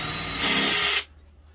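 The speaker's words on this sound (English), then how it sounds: "So we're just drilling these in the sides." A power drill driving screws into the sides of a caravan fridge whirs loudly and steadily for about a second, then cuts off abruptly, leaving near silence.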